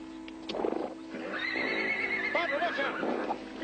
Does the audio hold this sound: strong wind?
no